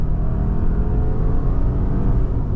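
A 2.5-litre petrol Subaru Forester pulls hard at full throttle, a steady, loud engine drone with road and wind roar filling the cabin, continuous and without any talk.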